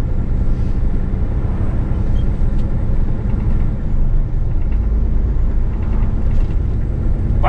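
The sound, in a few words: semi truck tractor driving off on snow chains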